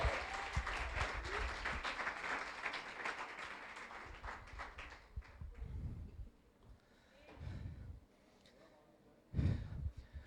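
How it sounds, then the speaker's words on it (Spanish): A church congregation gives a burst of applause that starts strong and then fades, leaving quiet room noise and a few scattered thumps and breaths. "Un fuerte aplauso para ellos."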